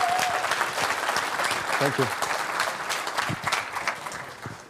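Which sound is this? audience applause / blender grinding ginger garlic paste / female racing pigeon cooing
audience applause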